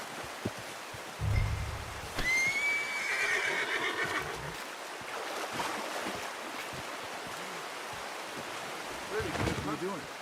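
A horse in the video game Red Dead Redemption 2 lets out a loud, clear whinny, with hoof sounds and wind or water ambience around it. A voice talks intermittently.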